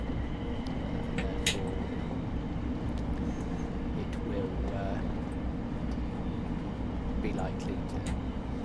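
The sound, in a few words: Desiro City train accelerating, video game Train Sim World 3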